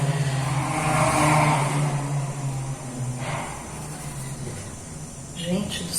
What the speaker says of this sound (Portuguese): Isso é moto passando aqui na minha rua.